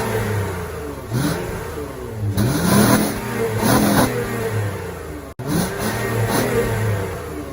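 A naturally aspirated Japanese V6 in a Honda Odyssey, muffler still fitted, revs loudly and up close in several rising bursts that fall back between them, with a gruff, almost diesel-like tone.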